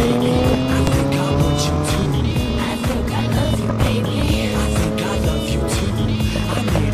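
Dual-sport motorcycles, a Honda XR650L and a Kawasaki KLR 650, ridden hard together, producing a loud continuous engine roar whose pitch rises and falls with throttle changes throughout.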